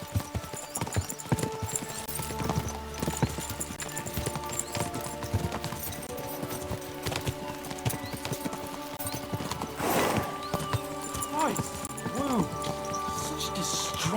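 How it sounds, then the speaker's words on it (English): Horses' hooves clatter in Kingdom Come: Deliverance II, a rapid uneven clip-clop of several horses at a gallop with occasional whinnies, under ongoing character dialogue and rain-like background texture. "We should spur the horses on."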